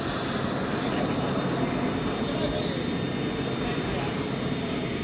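A radio-controlled Gripen model jet runs at a small RC club airfield at Khlong 11, giving a steady, loud, continuous jet-engine roar and hiss that holds evenly without pause.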